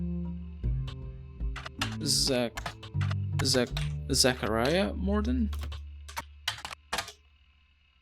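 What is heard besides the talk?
typing on a computer keyboard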